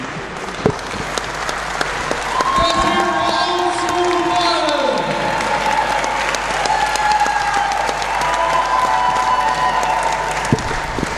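A crowd at a UK professional wrestling showcase applauds steadily after a match, a dense, even wash of clapping that runs the whole time while voices talk over it.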